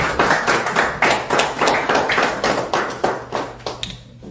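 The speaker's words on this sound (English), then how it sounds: "You can clap if you want to clap." An audience at a real estate book launch in Houston claps in a steady, even rhythm, the sharp beats close together and fairly loud over a low background hum.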